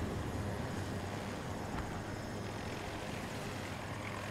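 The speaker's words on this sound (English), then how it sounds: "I'm being chased by an attack helicopter." Attack helicopter in Battlefield 2042 droning steadily as it pursues, a continuous rotor and engine roar with a broad, washy tone holding at an even loudness throughout.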